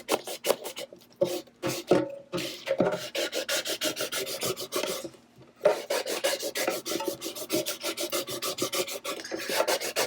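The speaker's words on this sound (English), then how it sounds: "So I'm just going to scrape down." Leftover vinyl being scraped down onto a curved surface with a scraper tool, a steady run of close, rapid rasping strokes with a few brief pauses, continuing alone without talk.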